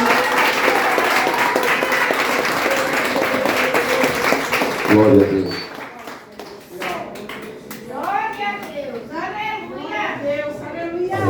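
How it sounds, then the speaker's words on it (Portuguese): A church congregation claps and cheers loudly for about five seconds before the applause cuts off, then people talk and voices rise amid the murmur of the room. "as palmas louvam o nome do Senhor Jesus"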